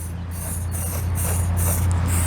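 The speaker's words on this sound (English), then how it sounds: "spray that on it, and then I just basically just put me small coats on it" Spray paint can misting paint onto a stuck brake caliper, several short hissing bursts in quick succession, close and loud over a steady low hum.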